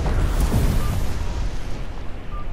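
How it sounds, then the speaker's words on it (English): Fireworks explode in the video game Neo: The World Ends with You, a loud booming burst that rumbles and then fades into a lingering roar. "They're shooting off fireworks!"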